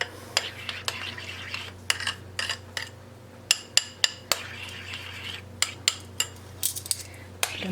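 A spoon stirs food colouring into an ice cream mixture in a bowl, giving a series of sharp irregular clinks and taps against the dish, close and without talk.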